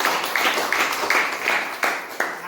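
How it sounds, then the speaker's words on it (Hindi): Audience clapping in steady bursts of applause, several rhythmic waves of hand claps from a crowd, fairly close and loud with no talk over it. "उनके लिए भी 1 बार जोरदार ताली हो जाए।"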